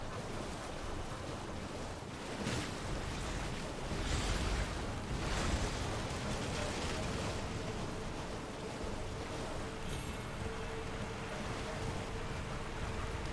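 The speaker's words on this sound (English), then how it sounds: "Okay, I'm in the waterfall." A waterfall in the video game Elden Ring, a steady broadband roar of rushing water that stays loud and constant throughout, with no talking.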